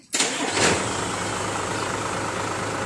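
A vehicle engine being started, a sharp crank that catches within a second and settles into a steady, quiet idle, no voice heard.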